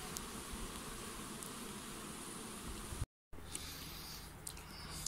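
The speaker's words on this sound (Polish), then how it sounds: "20 pszczół, które żyją tu już od ponad miesiąca" Small cluster of about twenty solitary bees kept for over a month, giving a faint, steady hiss-like buzz close by with a brief dropout midway and a few light rustles.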